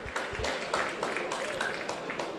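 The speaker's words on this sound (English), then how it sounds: "His season is now over, and he gets a round of applause." A stadium crowd at a football match at Lakeside Stadium, South Melbourne versus Heidelberg United, applauding a substituted player with steady, distant clapping beneath a commentator's voice.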